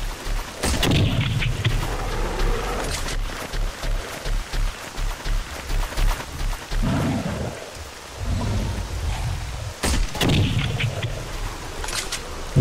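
Five gunshots in the video game Radiophobia 3, heavy booming blasts with long rumbling tails over a constant rain-like background roar, spaced irregularly across the stretch.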